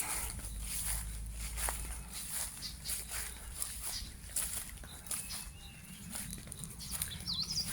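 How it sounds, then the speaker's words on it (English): Birds chirp and call outdoors in a rural area of South Africa, scattered tweets over a steady background hiss, with some faint rustling and no speech. "You can hear the birds chirping."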